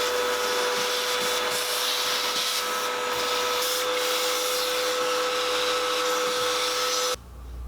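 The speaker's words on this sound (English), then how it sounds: "We're going to vacuum out as much as we can from the joints" A vacuum cleaner whines steadily and close while sucking debris out of the joints of a stone countertop backsplash, with occasional scraping, then cuts off abruptly near the end.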